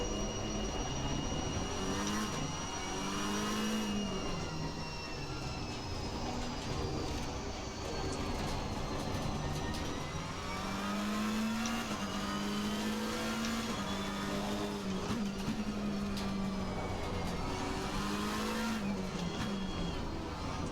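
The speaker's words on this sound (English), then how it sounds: "I can hear the car through the headphones in the microphone" A race car in the video game Assetto Corsa laps the Zandvoort circuit, its engine rising and falling through gear changes with whining revs and downshifts, a continuous steady roar heard fairly faintly as if picked up through headphones.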